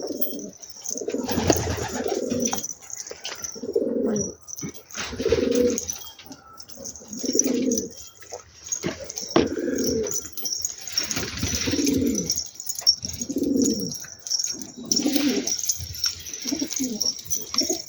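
Pigeons coo in a steady series of soft, low, rolling calls, about one every two seconds, close by against quiet background hiss.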